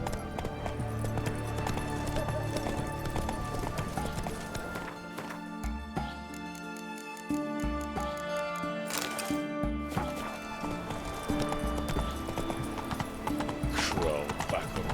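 Roach the horse galloping in The Witcher 3, steady clip-clop hoofbeats running continuously over dense game music and ambience, with a brief whinny, loud and close throughout.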